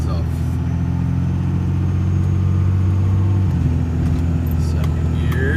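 A car with transmission trouble pulls through its gears, the engine droning steadily with a clear shift partway through, a voice talking over the continuous road hum.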